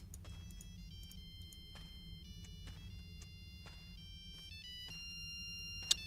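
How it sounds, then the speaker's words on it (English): A phone ringtone plays in the Mayan horror game MITNAL, a repeating electronic melody of bright tonal notes over a low steady background hum, moderately loud with no talk, ending in a sharp click. "Who the hell is ringing their phone?"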